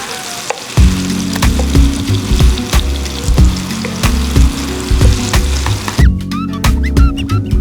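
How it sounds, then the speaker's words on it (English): Apple slices fry in a hot pan, a steady close sizzle broken by repeated clinks and scrapes as the slices are turned, ending with wetter crackling bursts. "I just keep turning these apple slices, want to get nice and evenly brown."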